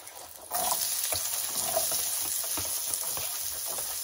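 Garlic and onion sautéing in a smoking pan with meat for pancit guisado, a sudden burst of sizzling that settles into a steady crackle with light stirring, close, no talk.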